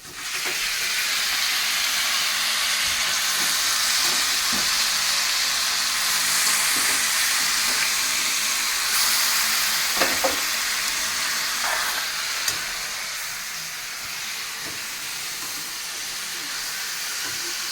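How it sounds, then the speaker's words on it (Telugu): Chicken sizzles and fries in a pan with onions, a loud, continuous hissing crackle that holds steady throughout, with occasional faint stirring. "ఉల్లిపాయలు అయితే వేగిపోయినాయి. చికెన్ వేపాలి."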